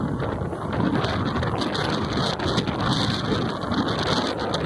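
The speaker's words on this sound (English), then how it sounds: "that last clip, you could hear the wind, and that was the audio that the Ray-Ban stories picked up" Loud, constant wind buffeting the microphone of Ray-Ban Stories glasses during a ride to the beach, a dense roaring rumble that fills the whole stretch with no voices heard.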